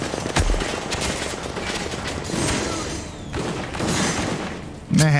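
Machine gun fire in the video game The Division rattles in dense bursts amid booms and mechanical clatter, loud and continuous for several seconds, ending with a thump.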